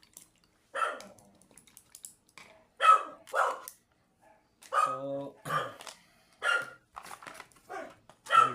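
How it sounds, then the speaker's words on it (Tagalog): Sharp dog barks come in bursts, several in a row with short gaps between them, fairly close and loud, with a brief spoken word in between. "Kahulan yung mga aso."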